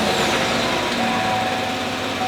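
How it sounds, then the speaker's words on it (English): A pickup truck engine with factory exhaust idles with a smooth, even exhaust rumble, steady and fairly loud, with no other sounds. "before we get this exhaust off this truck, let's go ahead and take a listen to how this thing sounds"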